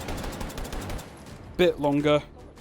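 Rapid gunfire in the VR shooter H3VR during a Take and Hold round crackles for about a second, then a voice speaks over quieter background.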